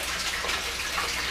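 Water pours steadily through an aquaponics system, a continuous close splashing trickle like a tap filling a tank, with no voices.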